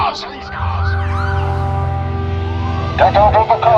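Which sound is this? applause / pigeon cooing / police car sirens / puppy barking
police car sirens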